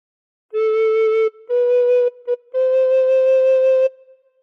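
A recorder plays phrase 2 of the Welsh tune Ar Hyd y Nos: four clear, breathy held notes with short gaps, close and alone.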